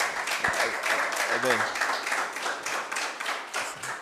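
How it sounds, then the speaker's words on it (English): Audience applause at a healthcare talk, a fairly faint, even patter of clapping spread across the whole stretch, with brief voices mixed into it. "I think EOhealth deserves another round of applause."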